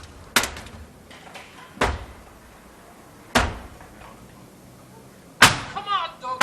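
Four heavy, sharp crashes of a door being forced and broken down, spaced a second or more apart and loud and close, with shouting voices in between and after.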